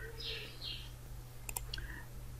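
A few faint computer mouse clicks, pressing keys on an on-screen keyboard in MS Word, come in a quick cluster over a steady low hum.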